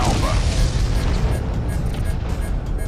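A big explosion in a space combat video game, a loud deep boom with a long rumbling roar that fills the whole stretch and fades only slightly.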